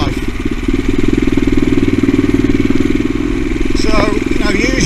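CCM Blackout motorcycle riding along a pitted road, its engine droning steadily and fairly loud throughout with a dense low rumble and a brief higher whine near the end; someone talks over it.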